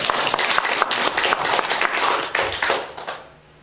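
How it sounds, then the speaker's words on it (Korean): A church congregation applauds steadily for a few seconds, a dense wash of clapping that tapers off toward the end. "우리 하나님께 다시 한번 감사의 박수 한번 드립니다."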